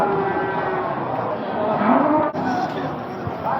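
Calves low and moo at a cattle market in Barda, with a steady crowd murmur and other livestock noise filling the background throughout.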